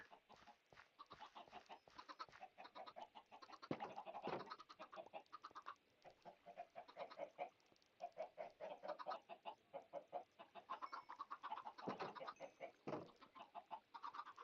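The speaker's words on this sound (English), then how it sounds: "I can hear all the chicken eggs being laid already." Chickens cluck continuously in Minecraft, with a dense run of short, repeated clucks and squawks close up and fairly loud, the sound filling the whole stretch without any talk.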